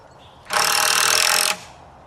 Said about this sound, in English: Right now I'm in the process of screwing down our top plate, the 2x4 on the top